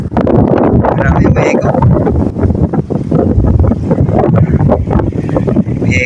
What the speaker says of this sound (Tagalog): Umi-eko yung hangin.